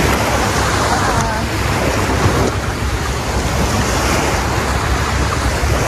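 Ocean waves wash onto a beach at Phu Quoc, a continuous loud roar of surf with heavy wind buffeting the microphone throughout, no voices over it.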